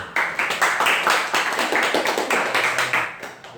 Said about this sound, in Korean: 협력이 잘 되는 사례. 박수 한번.